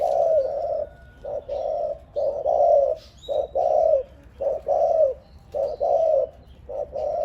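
A decoy dove coos in a repeated run of short, loud, close calls with brief pauses between them, keeping a steady, insistent rhythm throughout with no one talking.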